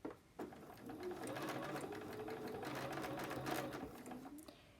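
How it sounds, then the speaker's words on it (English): A sewing machine stitches over the edge of an elastic casing on a scrub cap, one steady humming run of rapid needle strokes lasting several seconds, close and fairly quiet, starting after a brief clack. "I stitch right over the edge of that casing again"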